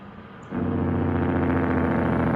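A Kenworth truck's jake brake kicks in abruptly after a quieter moment, becoming a loud, steady, rapid engine rumble with a strong low drone that holds to the end.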